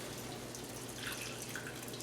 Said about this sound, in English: Let me pour a little bit of that juice off